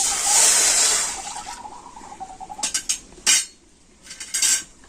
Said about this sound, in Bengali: এবার আমি কড়াইতে দিয়ে দিচ্ছি এক বাটি জল